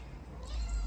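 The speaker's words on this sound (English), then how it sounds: "look at that, kitty cat is coming in." A cat gives a short, quiet meow as it comes into a home kitchen, rising in pitch over a low background hum.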